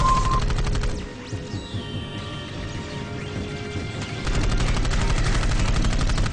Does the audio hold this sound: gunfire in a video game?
yes